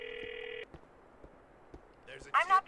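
A phone in GTA 4 sounds a steady dialing tone, then several soft clicks, before a voice starts speaking at the end.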